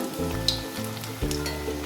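White sesame fritters cooking in hot oil on a low gas flame give a soft, continuous sizzle at moderate distance, with a few faint crackles as the oil is gently spooned over them.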